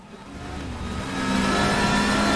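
A racing car engine revs and climbs steadily in pitch and loudness, a mid-range roar building to a sustained drone during a touring car race with winged cars such as Volvos, Renault and Alfa.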